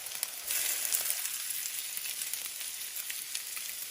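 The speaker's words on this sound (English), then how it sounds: "we're ready to cook our sausage" Maple sausage sizzles steadily in a hot pan as it is broken apart, a dense, continuous crackle with small scraping bumps running from start to finish.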